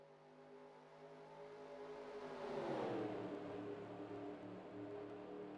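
A pack of race cars roars into turn three at Daytona in a NASCAR Racing 2003 video game, engine noise swelling to a loud pass in the middle and then holding a steady drone.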